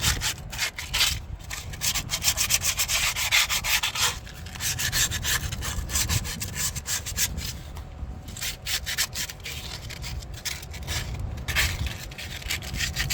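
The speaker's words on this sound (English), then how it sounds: "I have some light 100 grit sandpaper. I'm going to clean off of the old rust off of it." Steady rubbing scrape of 100 grit sandpaper cleaning old rust off a JCB backhoe oil cooler, continuous and close with brief pauses, no talking.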